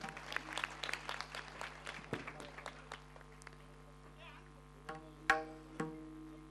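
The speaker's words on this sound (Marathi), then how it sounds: "सगळ्यांनी टाळ्यांचा गजर करायचा आहे।" An audience at a kirtan gathering claps in scattered, uneven bursts while a couple is honoured by the maharaj. The clapping is faint and comes with a few louder isolated claps near the end and some voices.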